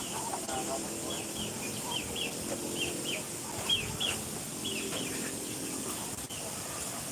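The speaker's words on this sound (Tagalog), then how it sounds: "Ayan, yung mga alaga naming manok at pato." Backyard chickens and ducks kept as pets cluck and chirp in short repeated calls, moderately near, over a steady hiss of background noise under shade trees on a hot day.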